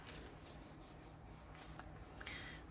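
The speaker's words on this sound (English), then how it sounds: "I just took a little fingernail file and I went over this real easy" A fingernail file rubs lightly over the slick cover of a children's book being made into a binder pocket, giving a soft, close, continuous scuffing rasp with small strokes and no talk.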